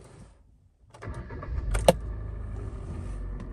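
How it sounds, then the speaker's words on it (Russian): A 2014 Kia Rio engine cranks and catches with a brief jingle of keys at ignition, then settles into a steady low idle close by, with no talking. "Давайте запустим двигатель."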